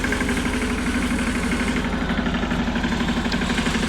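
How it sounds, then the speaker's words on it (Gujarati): A farm tractor engine runs steadily close by as the tractor turns, with a continuous throbbing low rumble and no talking over it. "જો આ ટ્રેક્ટર આવી ગયો પોતો ફરી."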